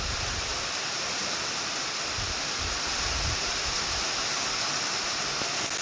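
Rainwater from heavy rain rushes and pours everywhere after a downpour, a steady, loud broadband wash of flowing water with no break throughout.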